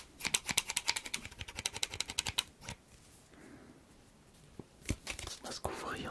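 Close, quiet rapid snips and crinkles of scissors cutting open a Pokémon booster pack, a quick burst of clipped strokes followed by a pause and a few further cuts and rustles.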